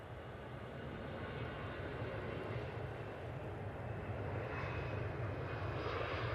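Aer Lingus airliner on its takeoff roll at Manchester Airport, a steady broad jet engine roar held at a moderate distance, building slightly toward the end with no talk.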